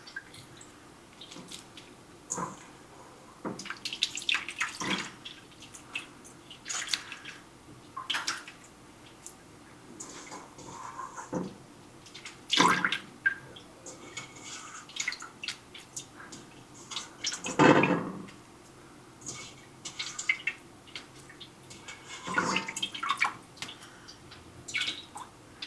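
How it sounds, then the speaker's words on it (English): Homemade butter churned from heavy cream is squeezed by hand, giving soft wet squishes and drips of buttermilk in irregular bursts, close and fairly quiet, with one longer squelching squeeze near the middle. "Let's gather all the butter. Squeeze out that buttermilk."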